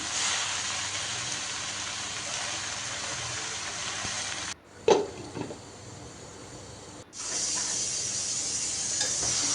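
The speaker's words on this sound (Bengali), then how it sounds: "রসুন কুচি আর পেঁয়াজটা একটু ভেজে নিয়ে এরপর এই পালং শাকটা দিয়ে দিলাম" Spinach sizzles steadily in a pan with garlic and onion, a loud dense crackle that drops out twice, briefly broken by a stirring clatter before the frying hiss returns.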